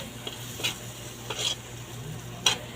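Corned beef fries in a pan with a steady low sizzle while a utensil stirs and scrapes it in a few distinct strokes, close and alone with no talking.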